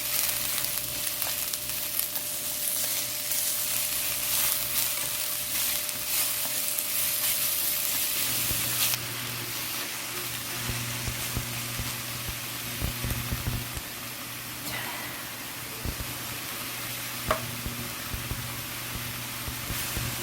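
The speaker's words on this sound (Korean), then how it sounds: "양파를 먼저 잠깐만 볶아드리겠습니다" Onions stir-fried in a pan for a cream sauce pork neck steak give off a steady bright sizzle, which drops in intensity partway through, with occasional scraping stirs and no talk.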